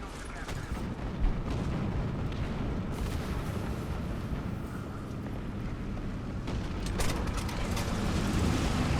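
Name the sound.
air attack explosions in War Thunder video game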